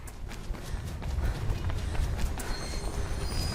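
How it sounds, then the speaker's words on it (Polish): A train in a parkour simulator video game rumbles past close by, heavy low clatter and rhythmic rail noise building and holding steady for a few seconds. "Za plecami masz pociąg, wjazdaj stamtąd."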